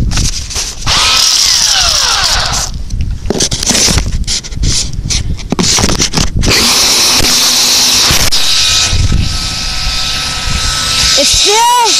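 A drill dropped from 45 feet keeps running, its loud motor whining and sweeping in pitch through a dense wash of noise, with voices talking over it.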